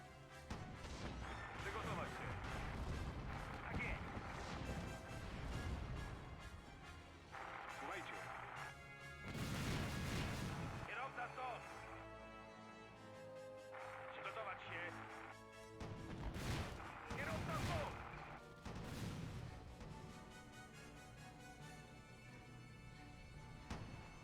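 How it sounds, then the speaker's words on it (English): In the video game Theatre of War, artillery shells strike a Panzer II tank during a Poland campaign mission, giving repeated loud crashing impacts and booms in bursts, with someone talking between them. "Okay, concentrating this fire. That Panzer II is taking some pretty devastating hits."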